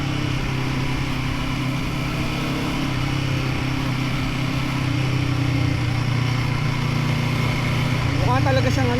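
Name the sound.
Royal Enfield Guerrilla 450 motorcycle riding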